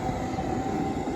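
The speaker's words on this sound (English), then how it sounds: "we have a tram." A passing tram in Adelaide, Australia, gives a steady, fairly close rail rumble with a faint sustained whine above it, continuous and even throughout without talking.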